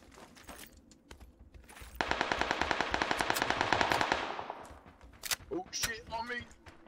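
Rapid automatic gunfire bursts loudly for about two seconds in a looting shooter video game, set among players' voices chatting before and after.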